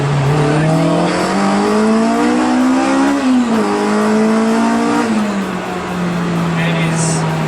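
A Honda Integra Type R DC5 engine revs up loudly while driving, pitch climbing through gears with a clear drop at a shift, then settling into a steady drone; a voice talks over part of it.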